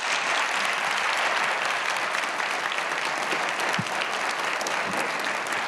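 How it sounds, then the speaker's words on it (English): A conference symposium audience gives presenters a round of applause, sustained and dense clapping from a large crowd that holds steady and loud from start to finish with no talking over it. "ask the audience to give our presenters a round of applause"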